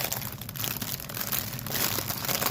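Plastic packaging of a stamped cross stitch kit crinkles and rustles continuously at close range, a dense, steady crackling texture with no pauses.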